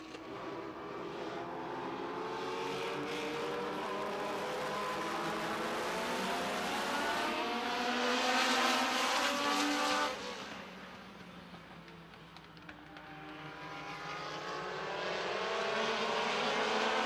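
Race cars roar around Midvale Speedway in a continuous loud pack, engines rising and falling as they pass, with a brief dip before the noise swells again.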